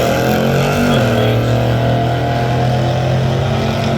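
Race cars run hard at close range, their engines holding a loud, steady, droning roar with a continuous low harmonic hum that barely changes across the few seconds.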